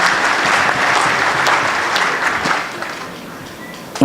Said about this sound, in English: We clap for them.